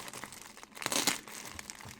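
Plastic parcel bag from a Chinese online order being handled and unpacked, soft close crinkling with a brief louder burst near the middle, faint overall and with no talking.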